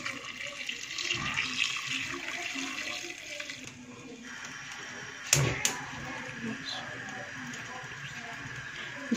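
Boiled water pours steadily into a soup pot for several seconds, then stops; a couple of sharp metallic clinks follow, with quiet kitchen noise after.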